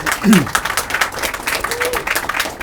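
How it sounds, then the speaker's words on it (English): An audience at a speech on dirty money and the private sector applauds a whistleblower, with lively clapping from a crowd and a voice or two rising briefly through it. "Round of applause."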